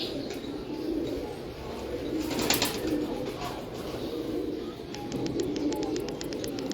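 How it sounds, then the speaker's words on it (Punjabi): Pigeons coo in soft, repeated low rolling calls, several birds overlapping at moderate distance over a steady hum of background noise, with no clear talk. "ਇਹ ਵੀ ਬਟੇਰੇ ਕਬੂਤਰ ਨੇ"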